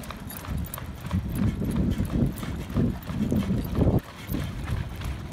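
Hooves of Doobie the horse clip-clop in a steady trot going downhill, close and rhythmic, with a rider's voice occasionally over them.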